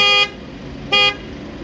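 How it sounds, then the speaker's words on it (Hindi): Two loud, bright car horn blasts on a night drive from Chandigarh to Delhi, one short and a second about a second later, over a low traffic rumble. "इतना क्यों हॉर्न मार रहे हो यार"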